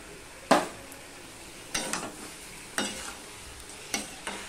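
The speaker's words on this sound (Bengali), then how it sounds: "এবারে ভেজে রাখা পটলগুলো আমি দিয়ে দিলাম।" Fried pointed gourds are stirred in an oily pan, with four or five distinct scraping strokes about a second apart over a low background sizzle.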